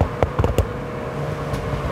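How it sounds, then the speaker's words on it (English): A MINI Roadster with a valved sport exhaust crackles on deceleration: a quick cluster of sharp pops and bangs, then a lone pop later, all over a low engine drone, close and fairly loud. "a valve opens up in the exhaust, which makes the car emit popping and banging sounds"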